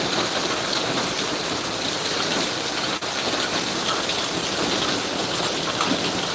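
Rain pours down steadily over a garden, a continuous loud hiss of drops striking surfaces close by. There are no voices and no pauses, with only a brief dip in the wash of sound.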